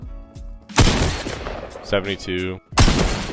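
Tactical shotgun blasts in Fortnite Chapter 2 Season 5, a few loud, close shots in quick succession with someone talking between them.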